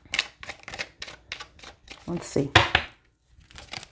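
Oracle cards being shuffled and handled, a run of quick papery riffles and crinkling flicks in a steady rhythm, then louder handling and a pause, with a voice speaking briefly over the card sounds.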